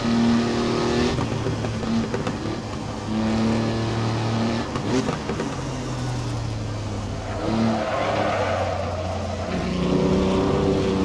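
A 1959 Jaguar Mk2 laps Donington Park circuit, its engine droning loudly and close throughout, with pitch rising and falling as it revs and eases through corners.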